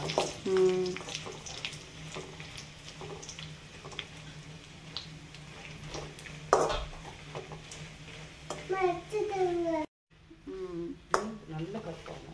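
Dried red chillies crackle and fry in hot oil for temple-style tamarind rice, a steady sizzle with scattered pops and stirring clinks, while a person talks over much of it.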